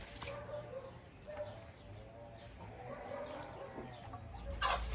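Chickens cluck softly in the background of a farmyard, a steady scattered chatter of hens with no one speaking.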